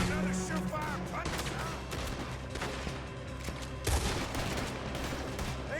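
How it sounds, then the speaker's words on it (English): Gunfire in the Western video game Red Dead Redemption 2, a dense fusillade of shots with bursts and louder cracks over a busy game soundtrack, with a voice talking over it. "Where am I getting shot from?"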